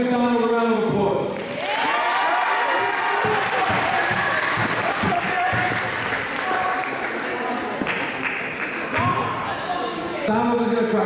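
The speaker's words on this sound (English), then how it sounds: "Everybody give Donald a round of applause." An audience claps for Donald, a participant invited up to sing at an addiction-intervention gathering in NYC. Applause swells in the middle and is framed by voices and musical tones at the start and finish.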